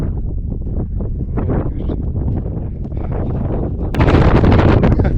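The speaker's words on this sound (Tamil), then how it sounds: "காற்று எப்படி அடிக்குதுன்னு பாருங்க" Strong wind buffets the microphone in gusty bursts, then roars louder and steadier toward the end.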